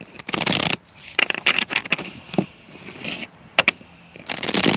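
Tarot cards being shuffled on the back of a trailer in quick riffling bursts separated by short pauses and light handling taps.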